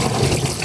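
Tap water gushing steadily while food is rinsed, a continuous close splashing rush heard alone for a brief moment.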